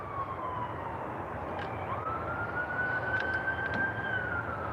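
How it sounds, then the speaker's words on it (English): An emergency siren wails in the distance, its tone slowly rising and holding over steady low traffic rumble. "All these fucking sirens."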